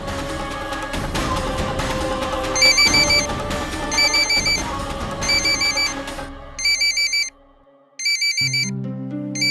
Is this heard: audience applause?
no